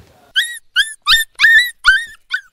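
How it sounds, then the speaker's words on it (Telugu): Dogs in front of a house let out six sharp, high yelping barks in quick, uneven succession, close and clear against an otherwise quiet background. "ఈ కుక్కలు పాడుగానే ఎప్పుడు ఇంటి ముంగట్నే ఉంటాయి."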